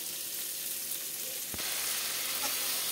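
Spice masala frying in a pan with a little water for lentil dal with drumsticks and potato, a continuous close hiss and sizzle with one brief knock partway through and no talk.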